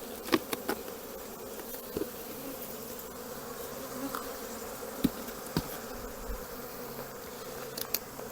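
Honeybees buzz around a hive colony during the merging of several nucs ahead of wintering, a steady soft hum of many insects close by, broken by occasional sharp clicks and taps.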